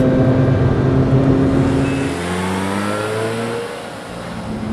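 A Mazda RX-8's Wankel rotary engine revs hard and climbs in pitch, loud and close, then settles and rises again with a smooth buzzing whine.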